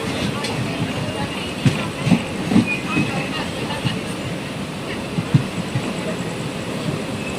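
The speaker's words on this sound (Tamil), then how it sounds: "நம்ம வண்டி இப்போது திருப்பூர் ரயில்வே ஸ்டேஷனுக்குள்ளே என்டர் ஆயிடுச்சுங்க." Steady rumble of a Jan Shatabdi Express train rolling along the rails into Tiruppur railway station, faint rhythmic clacks, heard from inside an AC chair car carriage with voices talking underneath.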